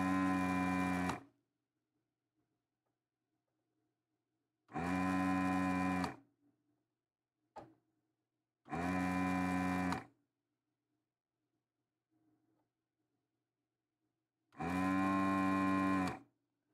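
Four separate droning, moo-like desoldering station vacuum pump bursts of about a second each, spaced by silence, with a single sharp click between them, during Amiga 1000 motherboard repair.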